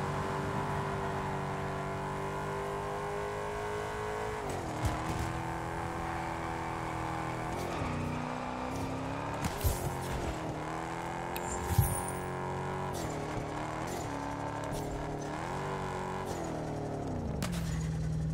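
Ford Mustang engine in the racing game Test Drive Unlimited Solar Crown, revving with steady harmonic drone that rises and falls in pitch, plus a few brief pops, continuous and fairly loud throughout.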